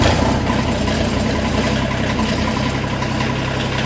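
A backhoe's diesel engine idles steadily while warming up, a continuous close, even rumble with no talk over it.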